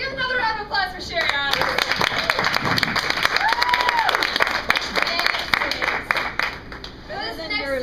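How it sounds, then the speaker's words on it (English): An audience at a live improv comedy show gives a round of applause, with crowd clapping and scattered cheers under a host's talk and whistling-like vocal sounds. "Give another round of applause for Sherry."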